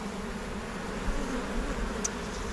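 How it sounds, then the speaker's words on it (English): Dense buzzing of a swarm of honey bees crawling over hive frames, a steady close hum with a few louder individual buzzes passing near, no talking. "Ton of bees."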